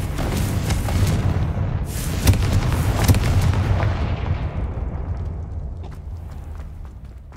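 A fiery spell blast from the Confringo curse in Hogwarts Legacy booms loudly, followed by a heavy rumbling roar with crackling bursts that slowly fades out over several seconds, with no talking.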